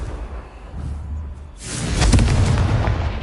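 A Confringo blast spell from Hogwarts Legacy goes off with a sudden booming explosion after a low rumbling lead-in, then rolls on with crackling debris.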